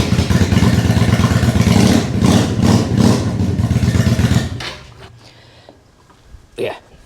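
A Suzuki VL250 motorcycle engine fitted with NGK CR7E spark plugs fires up and runs with a loud, rough, pulsing beat for several seconds, then cuts off. A short burst of speech follows the quieter tail.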